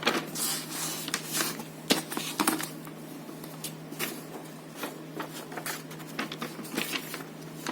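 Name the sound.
scissors cutting paper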